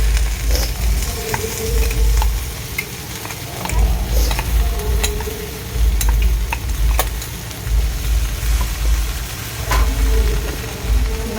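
Raw jackfruit pieces fry with a black sesame and garlic paste, producing a loud, steady sizzle. Low rumbling surges return every couple of seconds, and there is no speech.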